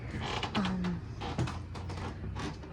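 Old floorboards creak loudly and repeatedly underfoot, with drawn-out groans over a steady, dense background of rustling and movement.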